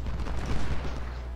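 Massed musket volleys crackle in the video game Ultimate General: Civil War during the Battle of Fredericksburg, a dense, loud, continuous roll of overlapping shots with no pauses.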